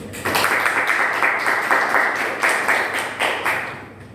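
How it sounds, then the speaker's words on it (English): Audience applauding both teams at the close of a debate practice, a steady wash of many hands clapping that starts after a brief pause and keeps going at an even level. "Let's give applause for both teams."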